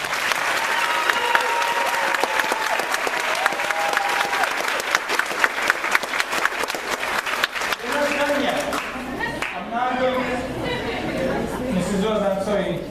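Audience applause at a 2013 high school graduation ceremony: loud, dense clapping from a large crowd with chatter mixed in, fading after several seconds as a voice begins talking.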